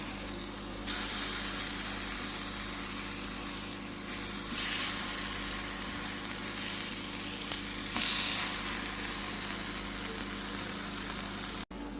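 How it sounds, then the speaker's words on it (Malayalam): Food frying in a pan after being flipped to cook the other side, a loud continuous sizzle with shifting hiss and a few bursts, ending abruptly. "അപ്പുറത്തെ സൈഡും കൂടി നന്നായിട്ട് ഫ്രൈ ചെയ്തെടുക്കാം."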